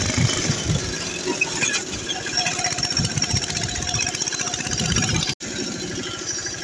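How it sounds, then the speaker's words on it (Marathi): A tractor engine runs steadily in a field being harrowed after recent rain, a loud, continuous rumbling drone with a rapid knocking pulse that briefly cuts out near the end before resuming. "चला ट्रॅक्टर पळवू आपण आता"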